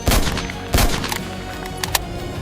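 Heavy gunfire in a WWII toy soldier battle set in 1945 Manila: sharp, loud bursts at the start and midway, followed by scattered smaller shots and crackling under a rumbling background.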